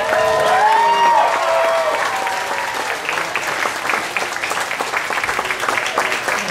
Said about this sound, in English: one more big round of applause for all of our contestants today